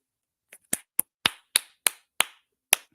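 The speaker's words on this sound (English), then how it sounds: "Let me see if I get my clap button here." A clapping sound effect is played from a button, about eight sharp, isolated claps spaced irregularly over silence, close and dry.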